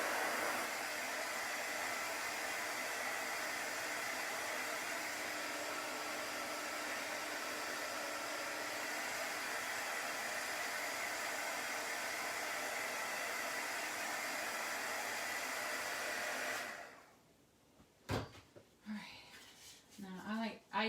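A heat gun runs steadily on chalk paste as it dries, a continuous close, even blowing hiss that cuts off near the end, leaving a few faint clicks and handling noises.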